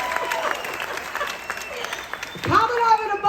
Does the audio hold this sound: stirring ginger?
no